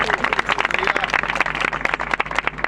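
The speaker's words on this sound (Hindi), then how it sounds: "ताली बजा के उसकी महिमा करो।" A church congregation claps hands in praise, a dense run of quick, sharp claps close and steady throughout, with voices mixed underneath.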